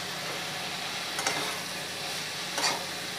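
Slit green chillies and fried prawns sizzle with ridged gourd curry in a pan, an even close hiss with two brief spatula scrapes, no one talking.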